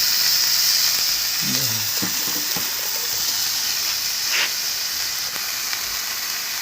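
Vegetable noodles fry in a hot pan with a constant bright sizzle and hiss, broken by a few clattering stirring knocks near the start, steady and close with no talk.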